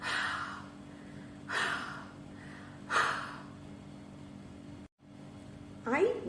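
Someone breathes heavily after hopping, a child-friendly imitation made for the letter H in a phonics lesson: three loud, breathy exhales evenly spaced, then a short pause and a final sharp gasp.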